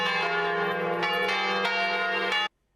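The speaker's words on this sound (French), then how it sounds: "Lâchez les cloches." Church bells ring loud and close, their rich metallic tones sustained in a continuous peal with repeated strikes, stopping abruptly into silence near the end.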